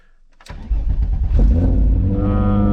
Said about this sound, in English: Now we should have some VR6 sounds.